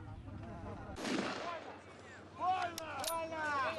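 A sharp burst of loud gunfire erupts after a quiet moment, followed by sustained rumbling noise with voices calling out over it.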